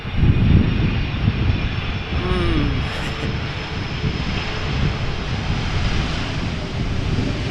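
An SAS Airbus A320neo landing at Amsterdam Schiphol Airport in crosswind gives a loud, steady engine roar throughout, close and continuous, with possible faint talking beneath it.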